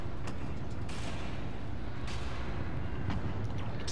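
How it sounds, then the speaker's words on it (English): Rumbling booms and bursts of explosions from a Godzilla video game, a continuous dense low roar with several sharp blasts rising above it throughout. "Oh yeah, a lot of explosions."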